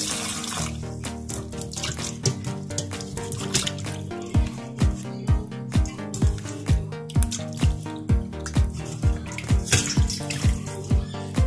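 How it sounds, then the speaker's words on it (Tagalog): Tap water runs steadily while chicken breast is washed in a sink, with a continuous splash and a rhythmic dripping patter heard under background music. "Hugasan lang natin maigi."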